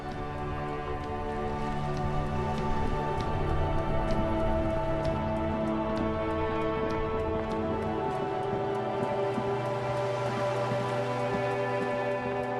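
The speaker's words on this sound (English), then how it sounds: "This rain will not let up anytime soon." Steady rain falls in the video game Disco Elysium, a dense even patter with light ticking drops over a low ambient hum, constant throughout without any talking.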